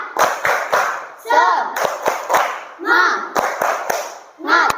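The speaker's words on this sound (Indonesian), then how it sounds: "Tepuk semangat." A primary school class performs a rhythmic spirit clap, tepuk semangat: sharp bursts of unison hand claps in a patterned beat, interleaved with children's shouted chant syllables, loud and close in a classroom.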